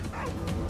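A quick, faint dog bark in the VR game Arizona Sunshine 2, a short yip or two, heard from a little distance under a thin background hum.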